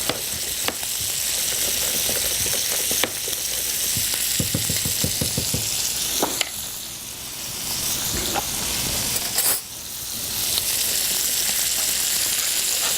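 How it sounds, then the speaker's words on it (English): Butter sizzles in a pan with squash and apple juice, a steady close frying hiss broken by occasional clinks and stirring scrapes. "I'm going to add just a tad more of butter here to our squash."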